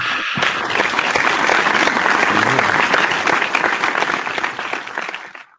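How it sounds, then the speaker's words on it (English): A group bursts into loud, sustained applause, a dense crowd of clapping hands that stays even for several seconds before tapering off and stopping abruptly. "Applause. That's applause."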